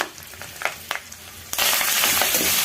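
Drumstick leaves and egg sautéing in a pan, a few light spatula scrapes at first, then a loud steady sizzle that takes over halfway through, close up with no talk.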